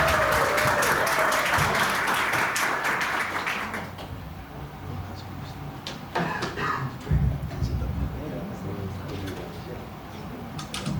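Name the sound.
congregation applause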